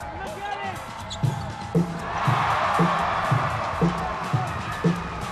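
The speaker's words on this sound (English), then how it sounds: "Tolomia knocks down a 3, giving the home fans more to cheer about." At a professional basketball game, home fans roar and cheer in a packed arena after a made three-pointer, the crowd noise swelling and sustained while a ball bounces rhythmically on the court nearby.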